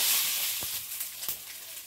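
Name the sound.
five-spice tempering sizzling in hot oil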